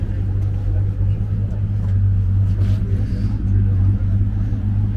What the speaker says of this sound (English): it's a V8. It's a lot of engine for a little car